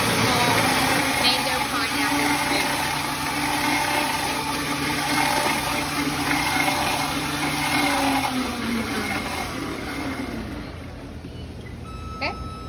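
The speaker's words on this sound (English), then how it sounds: "Now it's gonna dispense out enough to make two small mango pineapple" A beverage machine whirs steadily as it dispenses a blended mango pineapple smoothie. The continuous loud mechanical hum fades out near the end.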